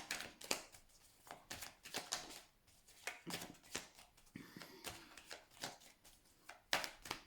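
Tarot cards shuffled and flipped in a rapid series of crisp, papery riffles and snaps, close and clear with no voice over them.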